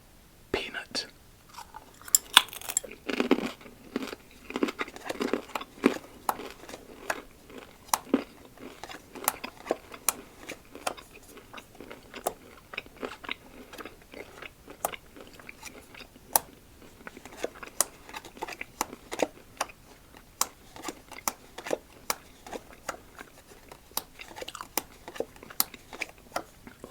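Someone chews salty crunchy cracklin' peanuts up close, with a steady stream of sharp crisp crunches and bites, quiet between chews, and whispering in places.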